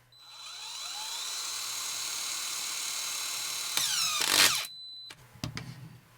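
A Parkside PTBSA 20-Li A1 cordless 20 V drywall screwdriver runs at a steady high whine while driving a long screw into wood, ending in a brief strained burst and a few clicks as the screw seats.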